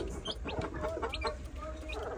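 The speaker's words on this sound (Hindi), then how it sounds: "मुर्गी ने, मुर्गी ने अंडा दिया है। अंडा दिया तो उसका चुप तो कर जाओ। अंडा देने के बाद ऐसे शोर मचाती हैं ये।" A hen clucking loudly and agitatedly just after laying an egg, a rapid run of close, repeated squawks over faint background noise.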